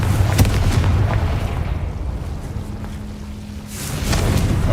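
Confringo blasting spell in the game Hogwarts Legacy, a heavy booming impact at the start that fades into a low rumbling wash before swelling again near the end.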